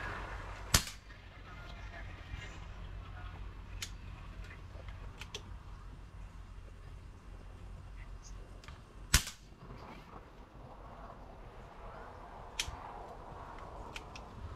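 Air rifle firing pellets at a target 25 yards away, heard as a few sharp isolated cracks spread over a quiet outdoor background, the loudest near the start and another mid-way.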